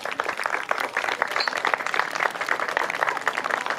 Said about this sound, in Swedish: Stora applåd